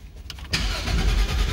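A rare car with a carbon fibre switch and roll cage is started at a car show: a short crank, then the engine catches into a loud, close, rumbling idle.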